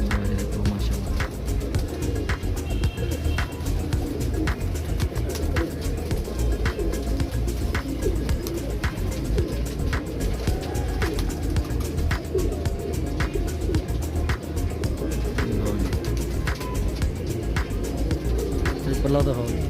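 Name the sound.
Teddy pigeon cooing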